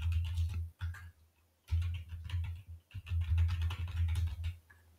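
Typing on a computer keyboard in quick clicking bursts with short pauses between them, close by and fairly quiet, no talking.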